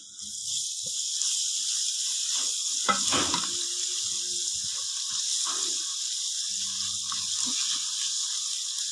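Ginger garlic paste fries in a pan for restaurant-style chickpea curry: a steady, bright sizzle close by, broken by a few soft stirring scrapes, with no talking.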